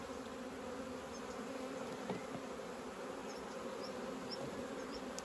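Honeybees hum in a steady close drone while being covered in a box for transport, a continuous even buzz with a few faint higher chirps and no speech.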